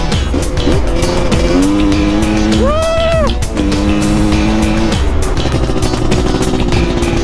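A 250cc MPX two-stroke motorcycle engine on a test ride revs loudly and close, rising in a sharp whine around the middle and falling back to a steady, buzzing high idle, with no talk.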